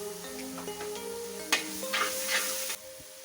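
Ginger garlic paste sizzles in hot oil in a pan for a Kerala-style green pepper chicken curry, a quiet continuous frying hiss broken by a couple of brief stirring scrapes.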